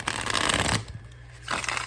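A deck of tarot cards is shuffled in two brisk bursts of riffling and sliding, close and fairly quiet, separated by a short pause.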